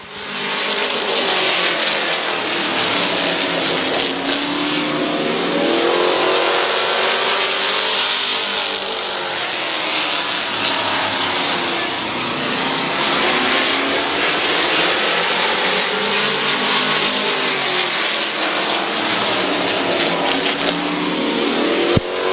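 Race cars at Midvale Speedway lap the track in a continuous loud roar, engines rising and falling in long sweeping waves as the pack passes and comes back around, with no one speaking.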